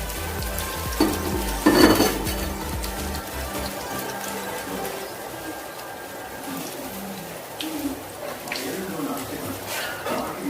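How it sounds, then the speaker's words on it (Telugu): Food fries in hot oil with a continuous crackling sizzle, louder spitting bursts near the start, while a voice talks over it. "చక్కగా ఫ్రై అవుతాయి."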